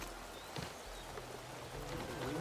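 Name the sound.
rain in the video game Horizon Forbidden West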